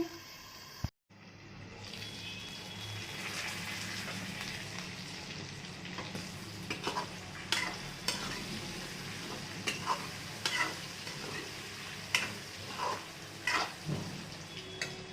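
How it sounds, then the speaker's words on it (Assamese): Chicken sizzles in a hot pan with a constant crackle, broken by a brief cutoff near the start and later by several sharp stirring clacks. "এয়া মাংসখিনি ভাজি হৈ গ'ল।"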